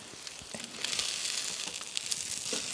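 Chicken fritter patties sizzling in a pan over an outdoor fire in the woods: a steady, bright hiss of frying with small crackles and pops, fairly faint and close, with no talk.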